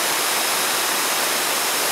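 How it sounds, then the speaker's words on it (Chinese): A small cluster of waterfalls and a trickling stream along the Smangus giant tree trail in Taiwan give a continuous, even rush of water. It is loud and unbroken throughout, with no voices. "现在走到一个小瀑布群，可以看到涓涓的细流"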